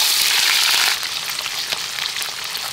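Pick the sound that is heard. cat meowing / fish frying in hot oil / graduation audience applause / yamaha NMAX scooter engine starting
fish frying in hot oil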